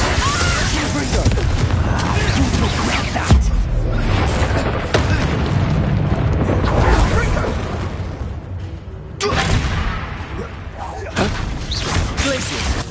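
Hogwarts Legacy combat with Bombarda, Glacius and Confringo spells: dense, continuous booms, bursts and whooshes of magic explosions layered over game music, with brief quieter gaps around four and nine seconds and a voice calling out over the action.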